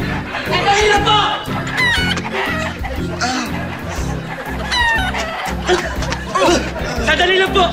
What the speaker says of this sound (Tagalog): yung manok, nakawala! Nakawala!